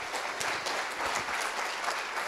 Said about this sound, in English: Everybody, please give a warm round of applause for Deputy Christina Brewerton.